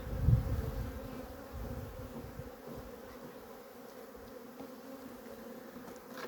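Honey bees buzzing around a hive during a colony merge, a soft, steady hum with a louder burst at the start that settles into a faint drone.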